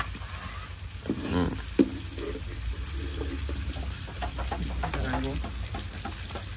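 Food sizzles and crackles in hot oil while being stirred, a steady close frying hiss with occasional scraping clinks, alongside casual conversation at a gurami fish meal.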